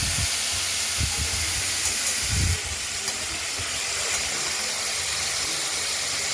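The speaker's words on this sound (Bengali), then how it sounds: "কচু সেদ্ধর জন্য একটু জল দিয়ে দিলাম" Water poured onto taro and ridge gourd cooking in a hot pan gives a steady, loud steam hiss throughout, with a few low thumps near the start and no talking.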